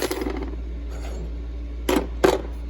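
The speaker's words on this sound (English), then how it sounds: "So you just pull that brake pad retaining pin out of there" A brake pad retaining pin is pulled from a bicycle brake caliper, giving two short, sharp metallic clicks close by over a steady low hum.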